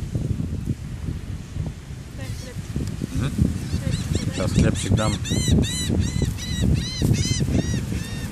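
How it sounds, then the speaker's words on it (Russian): Gulls call repeatedly in sharp, harmonic squawks, loud and close, over a busy background of wind and rustling on Indian Rocks Beach, Florida, with a person speaking briefly at the start. "И тут нас оккупировали чайки."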